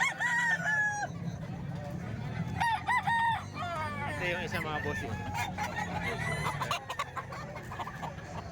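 Roosters crow loudly several times among clucking fowl, including eight-month-old stags, with someone talking in Tagalog under and between the crows.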